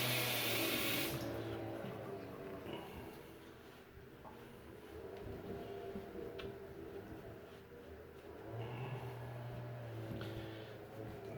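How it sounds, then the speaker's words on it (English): Cold water runs steadily from a bathroom tap into a sink during a shave, giving a continuous close splashing hiss with a few small clinks and a brief louder gush near the start, and no talking. "Cold water now."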